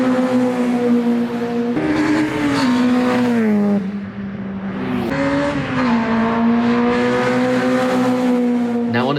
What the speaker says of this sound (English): this one has been fitted with God's own engine, a Honda K20. This combination is an absolute match made in heaven, and it sounds incredible as well